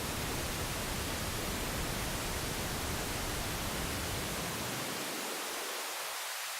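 Steady pink noise hisses evenly across the spectrum, then its low end is filtered away in the final seconds, leaving a thinner hiss.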